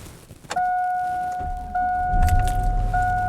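A 2002 pickup truck starting on a 30-degree day: a click, then a steady electronic chime repeating over the engine as it catches and settles into a low idle, close and fairly loud.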